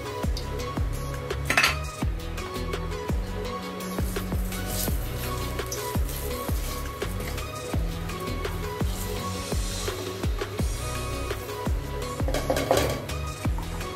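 Paneer fries in hot oil in a kadai, giving a steady crackle and sizzle with repeated clinks and taps of a utensil against the pan, continuous and close.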